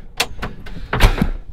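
A vehicle door closes on a farm during a silage harvest, giving a few close, sharp thumps and clunks with one louder slam near the middle, heard in outdoor air without speech.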